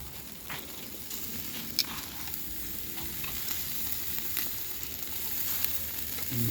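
Chicken and pork grill over a barbecue with a steady, soft sizzle and scattered crackling pops, fairly faint and continuous throughout.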